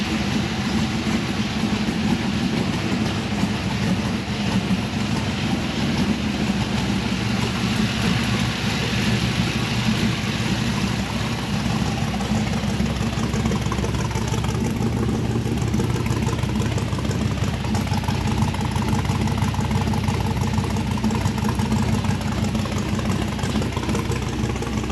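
An LS-swapped 1964 Impala SS V8 runs at a steady idle without revving, a continuous loud low rumble with no talking.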